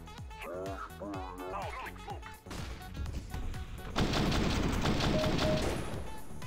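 Full-auto AK rifle fire in the video game CS:GO: rapid bursts of gunshots that grow into a loud, dense sustained spray in the second half, with other game sounds mixed in.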